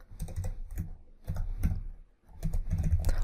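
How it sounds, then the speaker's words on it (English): Fingers tap out words on a computer keyboard while entering text into a Microsoft Word document: quick clusters of close, crisp key clicks with a short pause between bursts, no voices. "So I'm going to type in country of"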